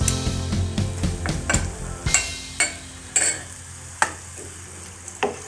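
Spices including white cumin, crushed chilies, salt and whole garam masala are stirred into stew qeema frying in a pot. A steady sizzle runs under repeated spoon scrapes and sharp clinks against the metal.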